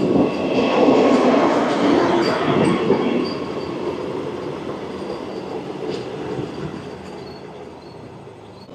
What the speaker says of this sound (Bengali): আমাদের ট্রেন এই মুহূর্তে এসে পৌঁছালো তার যাত্রাপথের ষষ্ঠ স্টেশন সাঁতরাগাছি জংশন